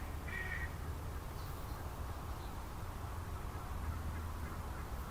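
Faint bird calls drift in from a distance over a steady wash of outdoor background noise, with one brief call standing out early.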